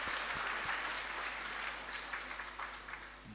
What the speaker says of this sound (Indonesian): Boleh kita kasih tepuk tangan Bapak Ibu jemaat Tuhan